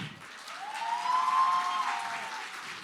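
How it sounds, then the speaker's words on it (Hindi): An audience applauds dancers on stage at a News 24 Manthan 2025 event. The clapping is moderately loud and swells in the middle before easing off slightly, and no voices come through over it. "फिर एक बार तालियां हो जाएं"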